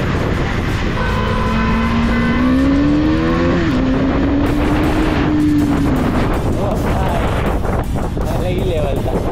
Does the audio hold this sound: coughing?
no